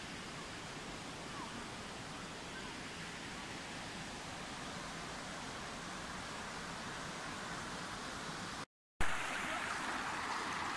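The Karacaoğlan waterfall in Mersin gives a constant, broadband rushing roar, steady and unbroken apart from a sudden brief dropout near the end before the noise resumes.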